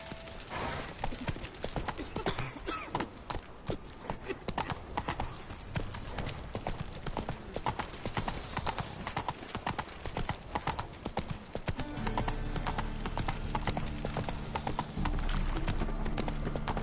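Roach, a horse in The Witcher 3 video game, clip-clops at a steady walking rhythm over a dense, continuous game soundscape, with hoofbeats close and clear throughout.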